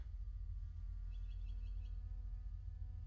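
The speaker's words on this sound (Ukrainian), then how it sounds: "нічого не чую мухи гудуть" Flies buzzing in a video game, a continuous droning hum with a steady pitch, held at an even low level throughout with no talk.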